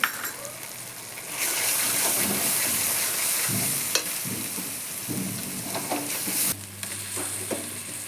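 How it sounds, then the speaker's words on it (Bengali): Meat going into a pan of fried spices for a Bengali chicken kosha, a steady loud sizzle and stirring that swells after the first second, with a brief scrape near four seconds and a sharper, lighter frying hiss toward the end. "মশলা কষানো হয়ে গেছে, এবার মাংস দিয়ে দিলাম।"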